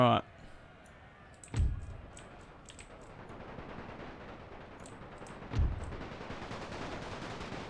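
Gunfire in Total War's Great War mod, a United Kingdom campaign: two or three sharp, distant shots a few seconds apart with faint scattered clicks over low battlefield ambience.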